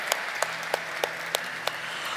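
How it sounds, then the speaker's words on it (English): A few people clapping at a corporate stock listing ceremony, sparse, spaced hand claps at a steady rhythm over a quiet room, close and moderately loud, with no voices. "you want to clap for that? Please, go ahead"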